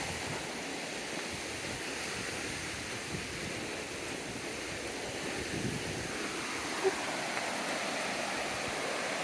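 A river flows through a wooded valley in the Brecon Beacons, Wales, a steady, even rush of water that stays constant with one faint click partway through.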